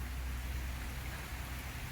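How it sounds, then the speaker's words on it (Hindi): Heavy downpour falling steadily outdoors during a rainy spell, a dense, continuous broadband hiss with low rumble underneath, unbroken and fairly loud throughout with no talking. "अब तो झमाझम बारिश हो रही है"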